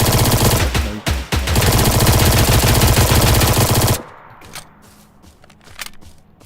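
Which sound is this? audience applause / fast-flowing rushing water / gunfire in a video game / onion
gunfire in a video game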